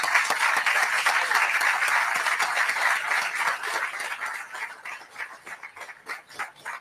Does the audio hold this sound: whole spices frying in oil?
no